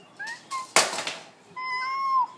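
A young child imitates a cat, voicing a few short rising meows followed by a longer drawn-out meow, close and clear in a quiet room.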